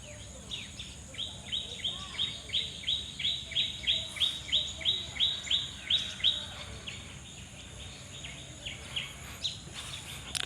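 A bird sings a quick run of bright, evenly spaced chirps during the rainy season, near a dhaincha-filled field in Dohori Naopara village, Bikrampur. The call repeats rhythmically for several seconds before thinning out into a quiet, open rural morning.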